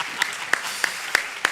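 Five sharp, evenly spaced claps ring out at a brisk steady pace in a hall at a youth peace summit, fairly close and distinct rather than a dense crowd roar.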